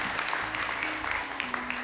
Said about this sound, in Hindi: बहुत सारी तालियां इन लोगों के लिए